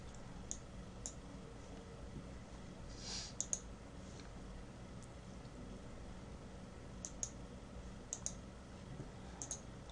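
Computer mouse clicks while navigating a website, scattered sharp single and double clicks at irregular intervals, close and fairly faint over a steady background hum.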